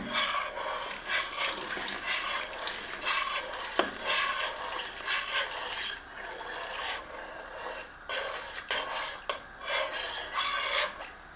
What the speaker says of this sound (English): slowly pour this in our flour and water mixture and stir